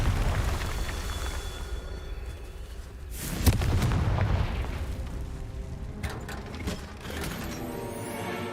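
A fire spell going off in the Hogwarts Legacy video game, a deep booming burst with rumbling mechanical texture over a constant background din, followed by fainter crackles.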